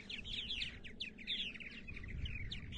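Purple martins call at nest boxes on eastern Long Island, New York, with a busy overlapping chatter of chirps and gurgles, several birds at once over a low steady background rumble.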